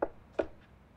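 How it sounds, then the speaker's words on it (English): Sharp knife cutting through pesto bread dough, two soft close thuds about a third of a second apart as the blade meets the board, quiet with no talking. "we cut them, get a nice sharp knife and clean cut"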